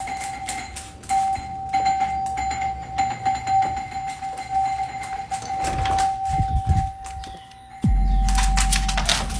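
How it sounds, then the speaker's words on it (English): A doorbell keeps sounding with a sustained ringing tone through most of the stretch, mixed with clattering and rattling noises and a sudden low rumble near the end. "the bell was still going off after she opened it"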